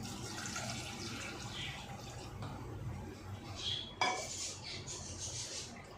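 Sliced potatoes are washed by hand in a bowl of clean water, giving faint sloshing, trickling and light clinks of the container, with a low hum behind.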